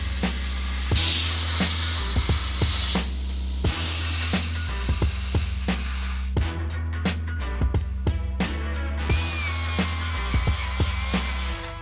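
ArcDroid portable CNC plasma cutter cutting a steel flange, a harsh sustained hiss and roar of the arc broken by repeated sharp clicks and brief pauses, with a high whine near the end.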